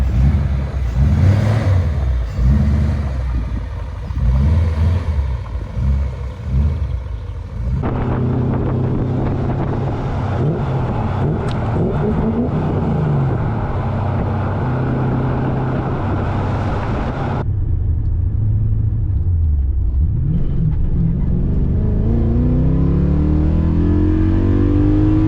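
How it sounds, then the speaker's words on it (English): A BMW E31 with a swapped S62 V8 out on a test drive, its engine droning and pulling up through the revs under heavy wind rush, shifting tone as it changes gears. "let's take it for a test drive, see how it drives"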